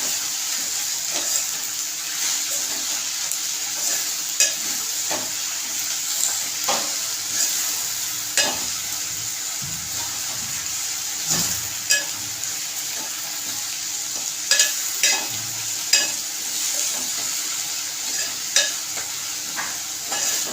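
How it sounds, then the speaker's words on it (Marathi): Drumstick leaves frying in a pan are stirred steadily, with a constant sizzle and repeated scraping strokes of the spoon against the metal across the whole stretch, close and fairly loud, with no talking. "चांगलं हलवायचे"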